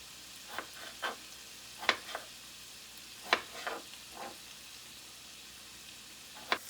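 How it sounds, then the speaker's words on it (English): Kielbasa browns in a skillet over low to medium heat, a soft steady sizzle broken by scattered sharp pops and crackles. "the kielbasa is getting nice and toasty brown over here. We have the skillet cooking"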